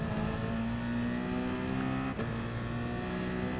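Race car engine held at steady full throttle in Gran Turismo Sport during an FIA Manufacturers Cup exhibition race, a constant loud droning whine with one brief dip partway through and no talk.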